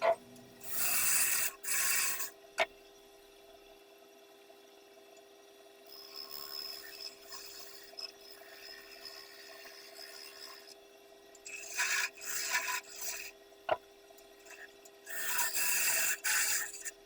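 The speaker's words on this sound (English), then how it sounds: "I sand the outside of the globe to grit 240." Sandpaper rubs the outside of a turned wooden globe in bursts, a soft raspy scratching that starts and stops several times over a quiet hum of machinery.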